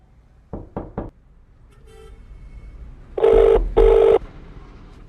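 Three quick knocks on a door in a tense horror scene, followed by two loud telephone ring bursts over a low background rumble.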